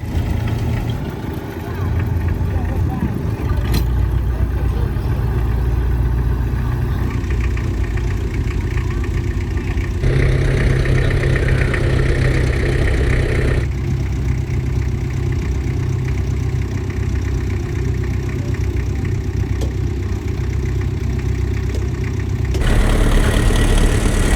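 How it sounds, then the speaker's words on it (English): A vintage tractor engine runs steadily throughout at a village show, a low chugging drone that holds near and constant while towing another tractor, with faint background noise layered over it. "And here's that tractor towing a tractor."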